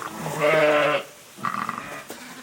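A sheep bleats on a farm during lambing, one loud, close, sustained bleat followed by a shorter, quieter second call.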